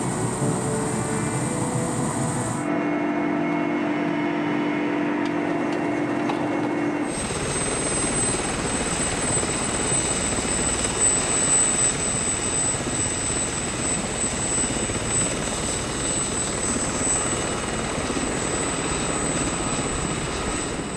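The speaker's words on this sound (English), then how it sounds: "Somehow, I don't think these choppers were designed with heli-skiing in mind." Helicopter flying over a snowy volcano summit in Kamchatka, a steady loud rotor and engine roar with a brief quieter dip early on before the drone returns and holds.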